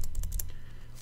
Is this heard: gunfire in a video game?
no